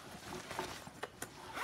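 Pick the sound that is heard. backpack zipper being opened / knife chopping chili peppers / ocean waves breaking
backpack zipper being opened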